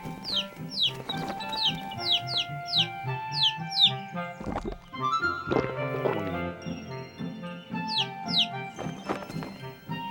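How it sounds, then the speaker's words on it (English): Cartoon birds chirp in quick repeated descending tweets over light animated background music, several bursts spread across the scene, bright and close. "There were birds,"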